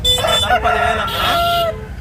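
A Bhimavaram breed rooster, about 14 months old and 3 to 4 kg, crows loudly and close at a Sunday country chicken market in Nellore, one drawn-out call filling the whole moment with no talk.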